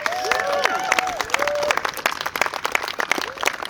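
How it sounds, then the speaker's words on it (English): Applause from a wedding ceremony crowd, dense clapping with some cheering, steady for a few seconds, with a voice or tones briefly audible near the start. "So how about a little round of applause for the parents?"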